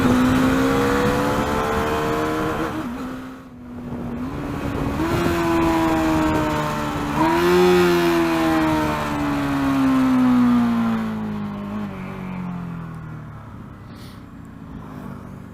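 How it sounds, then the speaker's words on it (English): A Bajaj Dominar 400 motorcycle engine with a slipper clutch drops through several gears in turn, each downshift marked by a revving blip before the pitch slides lower as it slows, without braking. "only downshifting on this motorcycle and not using the front brake or the rear brake"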